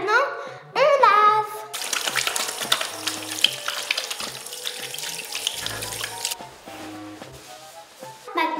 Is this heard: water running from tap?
yes